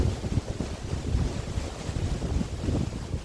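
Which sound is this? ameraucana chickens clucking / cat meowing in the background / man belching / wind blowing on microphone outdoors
wind blowing on microphone outdoors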